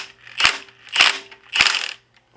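A ratchet working loose the timing belt tensioner on a Honda B-series engine in an EF Civic, giving three sharp, close clicking bursts spaced about half a second apart, then stopping.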